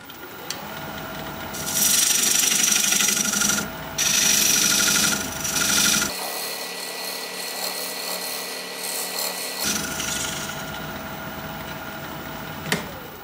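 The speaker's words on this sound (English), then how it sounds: "Now I'm going to use my recess tool that creates a dovetail on the inside here to match up with the jaws on my chuck." A recess tool cuts a dovetail into the inside of a spinning wooden pear blank on a lathe, giving a loud, close rasping scrape in sustained bursts with a brief break, then a quieter hum of the turning lathe.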